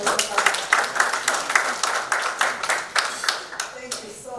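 An audience at a conference claps steadily, a dense run of many hands applauding at close range that fades slightly toward the end.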